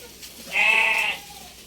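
A goat on a farm where goats are fed ground napier grass bleats once, a loud, close, wavering cry lasting about half a second against quiet surroundings.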